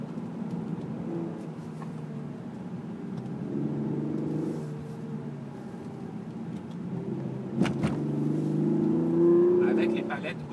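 A 3.8-litre V6 in a Hyundai Genesis Coupé with an eight-speed automatic hums steadily from inside the car and rises into a stronger rev near the end. Someone talks over the engine throughout.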